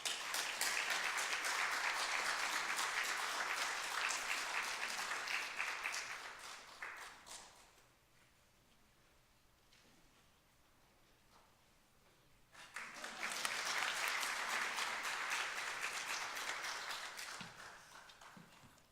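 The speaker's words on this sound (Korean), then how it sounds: "우리 박수로 맞이하겠습니다." A church audience claps to welcome a speaker, with sustained applause that fades into a quiet pause and then swells again into a second long round of clapping.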